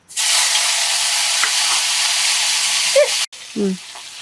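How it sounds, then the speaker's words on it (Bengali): Lentils frying in hot oil, a loud continuous sizzle filling the clip with a few stirring scrapes, cutting off briefly near the end before resuming more quietly. "তেল গরম হয়ে গেছে, ডাল দিয়ে দিলাম।"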